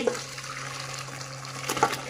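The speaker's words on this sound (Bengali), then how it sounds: "দেখুন এই টক ঢালছি" Sour mango-powder curry pours steadily close by for about two seconds, a soft continuous splashing with a slight swell near the end.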